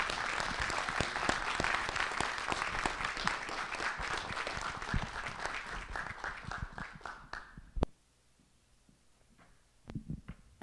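Sustained audience applause for a speaker at a lecture fills most of the clip, tapering off near the end into near silence, followed by a brief faint rustle.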